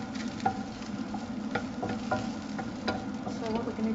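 Sausage browns in a pan with a steady, soft sizzle and scattered small pops and spits, heard up close with no talking.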